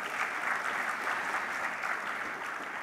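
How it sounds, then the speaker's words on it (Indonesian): An audience claps at a school institutional report presentation, a sustained round of applause that stays fairly even from start to finish. "Berikan aplaus untuk Ananda sekalian."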